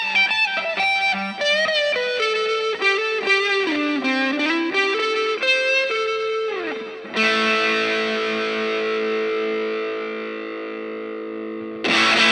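Electric guitar run through univibe, delay, compressor and light drive, playing a loud, smeared melodic line of sustained notes with swirling modulation, then a long held chord that rings out and fades before a fresh strike.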